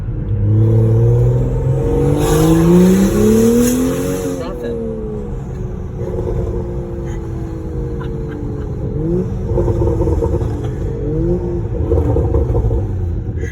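A BMW F30 335i with the N55 engine and a catless VRSF downpipe revs loudly nearby, its exhaust note climbing and falling in repeated pulls while people talk over it.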